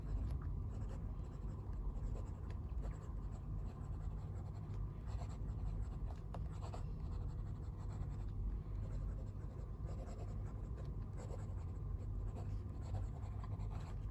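An Asvine V200 fountain pen writes on paper, giving a continuous close scratchy nib sound with small strokes and lifts over a steady low hum, without speech.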